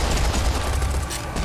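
Rapid gunfire from a pistol in the shooter game Serious Sam 4, a dense string of loud shots packed tightly together over a constant rumbling backdrop, with no talk.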